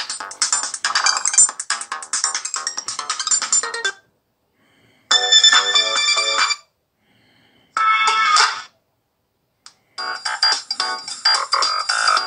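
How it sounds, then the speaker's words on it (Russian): The standard Nokia ringtone melody plays loudly on a Motorola V3i mobile phone in several bursts, separated by short silent pauses, with no talking. "Это стандартная мелодия Nokia."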